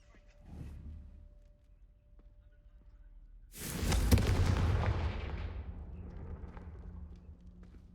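A Confringo spell explodes in the Hogwarts Legacy wizard game as a sudden, loud, roaring boom that decays slowly into a rumble, preceded by quieter low whooshes of spell effects.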